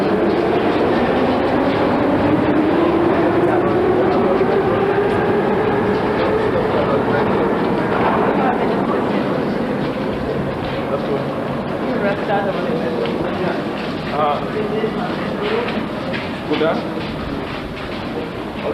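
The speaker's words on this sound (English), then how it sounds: "Okay, this is the metro, this is the underground station or the subway station." A Minsk metro train in 1992 rumbles and rattles continuously through an underground station, with rising whine and clattering wheels, fairly loud throughout.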